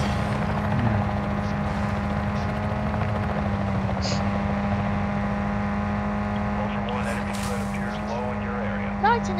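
A helicopter in Call of Duty Modern Warfare II Warzone 2.0 DMZ drones steadily throughout with an even rotor hum, while voices talk faintly in the background.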